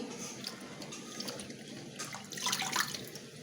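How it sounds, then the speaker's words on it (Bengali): Water spinach greens washed in a basin, with soft splashing and running water, close by and growing a little louder toward the end, no speech. "এই তো ধোয়া হয়ে গেল শাকগুলো"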